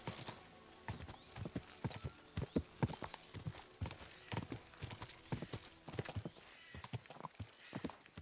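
Horse hooves clip-clop at a steady trot in the medieval game Kingdom Come: Deliverance II, close and distinct, with an occasional whinny and no talking.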